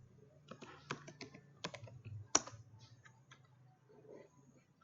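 Keys clatter on a computer keyboard in a few quick bursts of typing, with one sharper keystroke near the middle, all quiet and close, with no talking.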